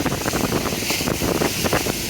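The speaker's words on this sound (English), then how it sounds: "It's very windy, and the waves are splashing up onto this boardwalk here." Strong wind buffets the microphone with a steady roar, while waves crash and splash onto a boardwalk nearby in repeated bursts, at Indiana Dunes National Park.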